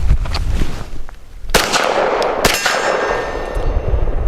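Canik METE SFX pistol shots ringing against a steel target, with two sharp, loud reports each followed by a metallic clang that rings on, plus fainter knocks before them.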